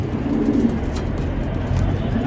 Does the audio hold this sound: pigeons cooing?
yes